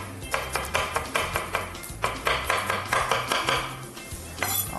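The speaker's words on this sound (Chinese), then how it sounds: "好，那我们就来把姜切一切" A knife chops unpeeled ginger on a board in quick, regular strokes, each a crisp knock, running steadily for several seconds up close with brief pauses and no speech.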